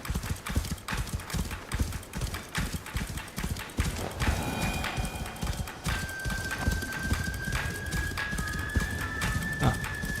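Horse hooves clip-clop steadily in a video game, a continuous rapid galloping patter under a busy game soundscape, with a brief whinny-like tone near the end.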